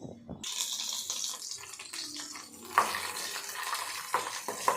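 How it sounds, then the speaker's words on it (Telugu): Cashews and raisins frying in ghee in a pan, a steady close sizzle with stirring scrapes and a few sharp clinks against the pan, no talk over it. "ఇప్పుడు మనం పక్కకి నెయ్యి వేసుకుని దా బాండీలో జీడిపప్పు కిస్మిస్ వేయించుకున్నాం"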